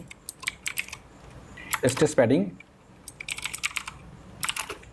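Someone types on a computer keyboard in short bursts of quick clicks with pauses between. A voice briefly speaks in the middle.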